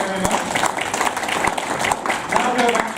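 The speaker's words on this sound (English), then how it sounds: "Give yourselves a round of applause." An audience at a talk applauds in a brief burst of scattered claps, mixed in with a voice speaking over it.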